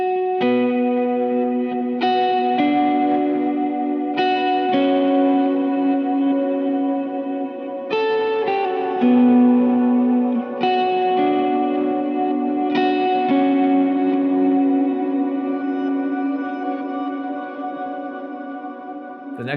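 A lead electric guitar plays a worship-song verse part through echo, chorus and reverb effects, with spaced picked notes ringing and overlapping into a washy, delayed sustain, loud and alone.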